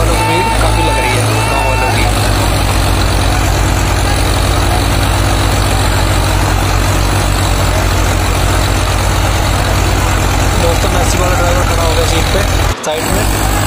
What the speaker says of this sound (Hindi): लगभग ट्रैक्टर दोनों बराबर से चल रहे हैं